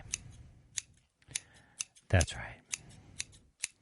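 Scissors snipping through a cannabis harvest during trimming, a series of sharp, close metallic clicks at a fairly regular pace with one louder cut midway, a brief spoken comment in between.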